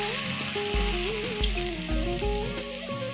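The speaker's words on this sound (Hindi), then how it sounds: "अब हम इसमें बैटर ऐड करेंगे।" Kadhi batter hits a hot spiced tempering in the pan, bursting into a loud, continuous sizzle and frying crackle, with the cooking spices popping under it and no talking.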